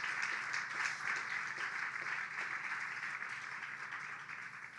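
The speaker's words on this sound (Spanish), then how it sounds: "Un aplauso fuerte al Señor." A church congregation claps for the Lord during a sermon, a soft, even patter of applause heard from a distance and slowly thinning out.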